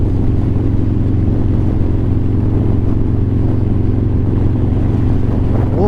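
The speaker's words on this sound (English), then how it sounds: "The bike is a 2018 Fat Bob. It has a 475 cam kit, Power Vision tuner." A 2018 Fat Bob motorcycle fitted with a 475 cam kit and a Power Vision tuner, ridden with a steady, loud, deep engine rumble that holds throughout without any talk.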